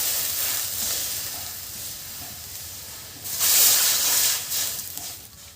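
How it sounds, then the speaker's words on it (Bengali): Water goes into a hot karahi that still holds mustard oil from frying cumin and ginger, producing a steady hiss that surges into a louder steamy burst midway before fading back, heard up close. "কড়াইতে আমি জল দিয়ে দেব।"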